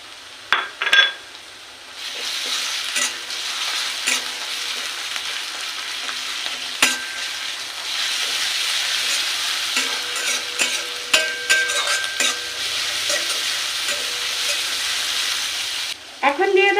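Browned onion, slit green chilies and ginger-garlic paste fry in a pan for an egg and pumpkin curry. A few clatters come first, then a steady, close sizzle with scattered spatula clinks, and a clatter at the end.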